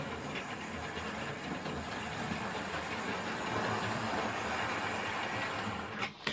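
A Hornby model train set slows down on a siding, its motor and wheels giving a steady mechanical whirr and rattle that runs continuously and fairly close, ending with a brief click near the end.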